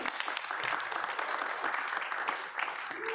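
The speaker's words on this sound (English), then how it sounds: "let's give them a nice round of applause to welcome them" A live audience at a Sunday forum applauds to welcome guests, steady dense clapping at moderate distance lasting throughout, with faint voices mixed in.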